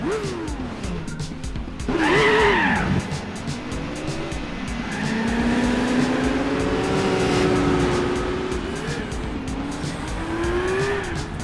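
A Nissan Skyline ER34 in Gran Turismo 4 loses grip in third gear, its engine note sweeping up and down under sustained tire squeal, with a sharp high screech near the start and a long, loud wheelspin wail afterward.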